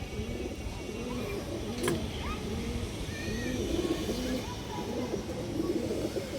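Domestic racing and high-flyer pigeons at a farm coo repeatedly in soft, rolling low calls, several birds overlapping close by with steady background hum and no talk.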